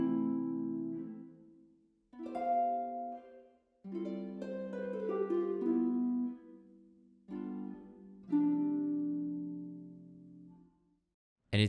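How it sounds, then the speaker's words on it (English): Vienna Synchron Harp samples play with the strings dampened by hand, so each short phrase of plucked notes and chords is cut off abruptly into silence, quiet and heard in isolation. "Or dampened version, which means that the player is dampening the strings with his hands"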